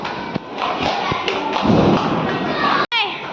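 Diwali firecrackers burst among a loud, steady festive din with children's voices, a few dull thumps landing through the noise and one sharp cutoff near the end.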